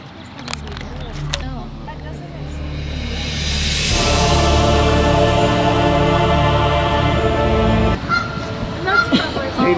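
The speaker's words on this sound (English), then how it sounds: "The goose are geesing." Geese honking loudly and repeatedly outdoors during a solar eclipse, a dense chorus of nasal calls that swells and carries on for several seconds, with people talking nearby.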